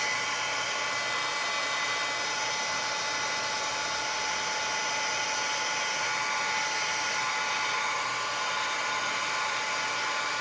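A heat tool blows hot air onto molding plastic for a scrapbook embellishment, giving a steady, fairly loud whirring hiss that runs unbroken throughout with no talking.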